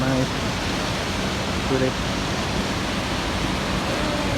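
The Rupse waterfall, beside a mountain trail, roars with a steady, dense rush of falling water that fills the whole clip, while a voice speaks briefly over it.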